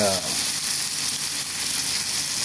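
Tuna sizzles and crackles steadily in a hot pan, a loud, even frying hiss with a brief low tone at the very start.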